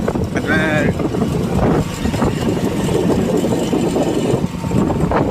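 Motorbike engine drones steadily while riding on a road journey home, heard with heavy wind buffeting the microphone and a brief higher tone near the start.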